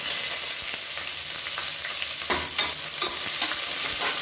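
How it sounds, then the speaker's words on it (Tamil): Onions, a mix of big and small shallot-type onions, sauté in hot oil with a steady close sizzle and occasional scraping stirs, no talking. "வெங்காயம் நல்லா வதங்கட்டும், ரொம்ப ப்ரௌனாக வதங்கணும்னு அவசியம் இல்லை"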